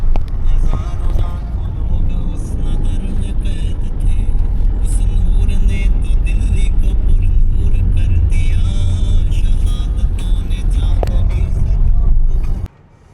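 Cabin noise from a car on a road trip from Jhansi back to Delhi, a loud, steady hum of engine and tyres on the road that runs unbroken, then cuts off abruptly at the end.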